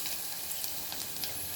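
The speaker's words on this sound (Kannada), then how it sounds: "ಇದಕ್ಕೆ ಹಾಗಲಕಾಯಿ ಹಾಕ್ಕೊಂಡು ಫ್ರೈ ಮಾಡ್ಕೋಬೇಕು" Bitter gourd frying in hot oil gives a steady, soft sizzle and hiss with faint crackles, heard alone at low volume.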